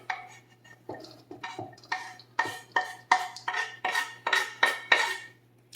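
Onion tipped into a pan of cooking turkey breakfast sausage, giving a run of close, sharp clinks and scrapes of a utensil against the pan, quickening and growing louder before fading, with no talk.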